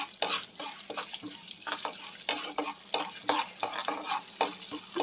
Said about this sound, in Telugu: ఇక్కడ ఆవాలు జీలకర్ర పచ్చనగపప్పు మినగ మినపప్పు వేసేసుకొని ఫ్రై చేసేసుకోవాలి